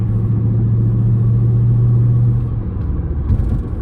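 A manual Mercedes C55 AMG with its M113 engine cruises in fifth gear, giving a loud, steady low drone heard from inside the car. Near the end it eases off slightly, with no talking.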